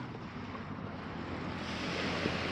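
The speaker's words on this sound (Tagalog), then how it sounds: "Ayun, oh, nandun na yung alon" Ocean waves washing onto a shore at Matnog, Sorsogon, a continuous broadband roar of surf mixed with wind noise on the microphone, swelling slightly louder toward the end, no speech.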